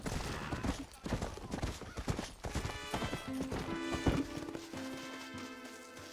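Horse hooves clip-clop steadily in Red Dead Redemption, a dense run of hoofbeats mixed with game music and effects, with a brief whinny-like tone near the end.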